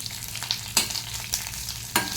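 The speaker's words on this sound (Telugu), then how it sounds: "ఆవాలు జీలకర్ర మినపప్పు అన్నీ వేసుకున్నాను అల్లం ముక్కలు కూడా వేసుకున్నాను" Mustard seeds, cumin, urad dal and ginger pieces tempering in hot oil crackle and sizzle up close, with a few sharper pops and scraping stirs standing out over the steady frying hiss.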